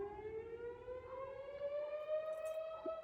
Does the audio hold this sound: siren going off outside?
yes